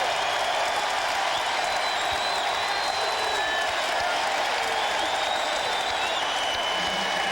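Dense, roaring arena crowd at a 2001 NBA playoff game between Milwaukee and Charlotte at the Charlotte Coliseum, cheering and clapping at a steady loud level throughout with a faint voice over it.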